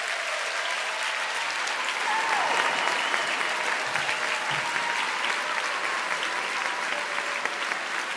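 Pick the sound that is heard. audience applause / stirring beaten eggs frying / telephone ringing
audience applause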